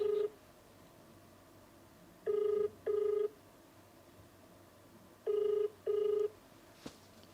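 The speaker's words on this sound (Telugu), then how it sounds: "రింగ్ అవుతుంది." Telephone ringback tone during an outgoing call, two pairs of short, even beeps with a pause between the pairs, faint against a quiet hiss, followed by a brief soft click.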